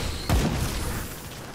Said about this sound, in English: Man, I love those explosions.